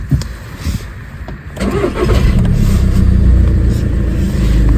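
A high-mileage VW Golf Mk6 cranks briefly and fires up, then settles into a loud, steady idle close by with no talking.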